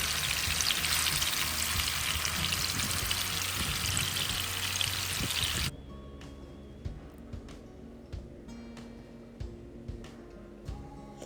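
Fish fries in hot oil with a loud, dense sizzle that cuts off abruptly partway through. A much quieter bubbling follows, broken by scattered clinks and small pops.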